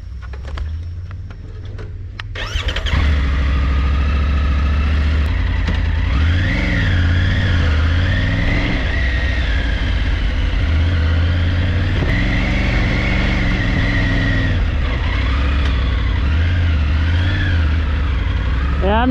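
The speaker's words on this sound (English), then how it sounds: "we both ride exactly the same motorcycle, same bike" Triumph Tiger motorcycles ride through the woods, a loud steady engine drone after a brief quiet start, with repeated rising and falling revs as the bikes accelerate and ease off, close and continuous.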